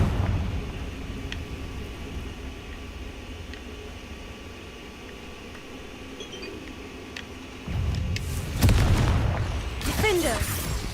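In Hogwarts Legacy, the Confringo fire spell goes off. A quiet game ambience gives way to a sudden heavy boom, followed by loud crackling, fiery bursts that fill the final seconds.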